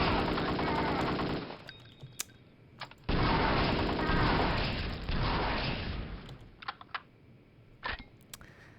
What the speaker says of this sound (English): we'll ready our bazooka and give him a couple of rounds